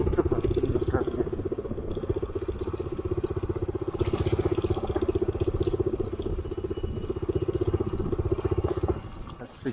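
A Bajaj Dominar 250 motorcycle idles nearby with a steady, fast low thumping pulse, fairly quiet and alone, cutting out near the end.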